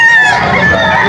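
A brief burst of loud, close clucking and crowing from roosters and stag gamecocks at a crowded Bocaue, Bulacan market, over steady background noise.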